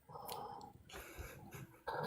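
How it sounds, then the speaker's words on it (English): A dog gives a quiet, brief mix of low growls and soft whimpering nearby, in a couple of short bursts in an otherwise calm room. "My dog's trying to suck up my floorboards as usual."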